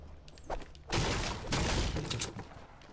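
Gunfire in the Fortnite battle royale game: a few faint shots early, then a loud sustained burst of overlapping shots from about one second on, dense and continuous with no talk.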